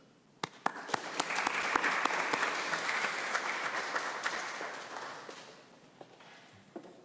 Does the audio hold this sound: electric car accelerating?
no